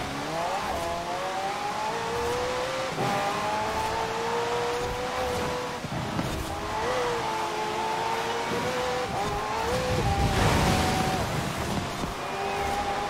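McLaren P1 engine revving and shifting on a wet track in Forza Horizon 4, a steady rising and falling engine whine with tire hiss and spray underneath, continuous and fairly close.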